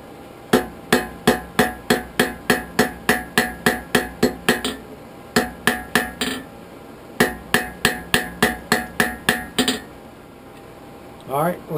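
Hot steel is hammered while forge welding a poker handle, with two long runs of rapid, evenly spaced ringing blows on the anvil separated by a short pause, loud and close.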